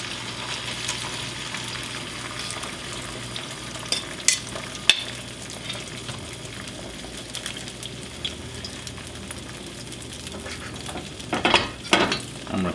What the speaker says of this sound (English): You want to hear the little sizzle sound.